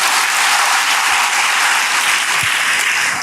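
A church congregation applauds for God, a dense, loud and continuous wash of many hands clapping close by, with no talk over it.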